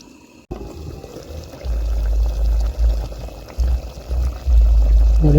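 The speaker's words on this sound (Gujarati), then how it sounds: "આની ઉપર આપણે રેડી દઈશું પાણી" Water is poured from close by over chicken cooking in a pan for a dhaba-style chicken bhuna masala, a steady splashing pour with deeper gurgling surges.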